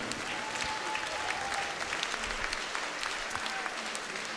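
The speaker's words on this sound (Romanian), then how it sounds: "Mulțumim celor care s-au ridicat în picioare și îi aplaudă." An audience at a folk music concert with a municipal orchestra gives steady, dense applause, many hands clapping continuously at moderate loudness from start to finish.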